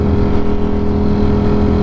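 A motorcycle's loud aftermarket exhaust drones steadily up close, a thick continuous engine roar filling the whole moment with no voices.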